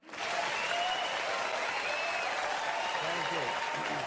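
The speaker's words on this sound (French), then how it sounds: "vous demande de l'applaudir chaleureusement" A crowd in a hall breaks into warm applause for a speaker being introduced, rising quickly into a loud, sustained wash of clapping that stays even throughout, with a faint voice under it near the end.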